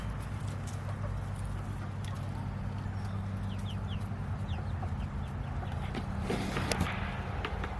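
Free-range chickens clucking faintly over a steady low rumble, with a few sharp chirps and light scuffing steps scattered across the scene outdoors.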